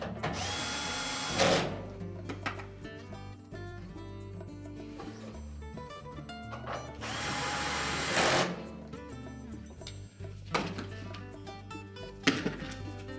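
A power drill drives screws into a Whirlpool dryer cabinet during a repair: two or three short, loud whirring bursts separated by quieter clicks and handling of metal parts, with no voices.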